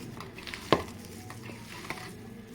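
A veg lollipop mixture is mixed by hand in a bowl, giving soft, quiet squelching and stirring with one sharp knock near the start and a smaller one later.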